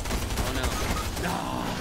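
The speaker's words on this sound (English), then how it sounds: "You hear the gunshots." Rapid gunfire from the Fortnite video game sounds as a dense, continuous rattle of shots, fairly faint and muffled under general game noise.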